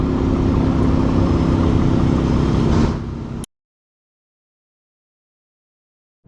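An Aston Martin DB11 V12 engine runs with a steady, loud, close rumble that fades slightly before cutting off abruptly into silence.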